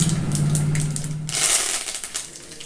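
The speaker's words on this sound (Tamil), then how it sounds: "அது அந்த கடுகு வெடிக்க சத்தம் கேட்குறது இல்லையா" Mustard seeds pop and crackle in hot sesame oil with curry leaves and dried buttermilk chillies, a dense, irregular spatter of sharp little bursts over a low sizzle, with no talking.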